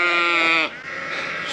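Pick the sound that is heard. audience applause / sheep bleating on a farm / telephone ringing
sheep bleating on a farm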